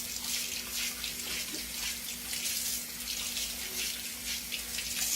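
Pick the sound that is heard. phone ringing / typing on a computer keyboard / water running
water running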